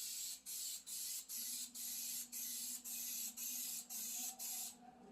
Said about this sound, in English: So right now I'm just going to put some spray adhesive on it